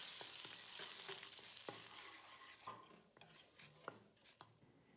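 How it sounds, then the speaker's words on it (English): Black pepper stir-fried in hot oil in a pan, a steady sizzle with utensil scrapes and clinks against the pan, close and fairly loud; the frying hiss thins out partway through while the stirring knocks continue. "Add some more oil and black pepper, stir fry to release the fragrance."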